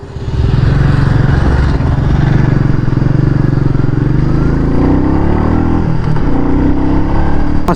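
Royal Enfield Meteor 350 single-cylinder motorcycle engine revving loudly and steadily up close, pitch rising and falling as the throttle is blipped, with faint talk beneath.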